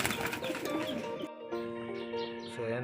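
Breeder pigeons coo in a loft, soft rolling calls repeating close by among faint chirps.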